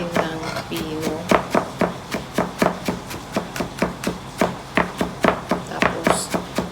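Knife chopping and mincing two heads of garlic on a board, a steady run of about twenty sharp, close taps at a quick even rhythm.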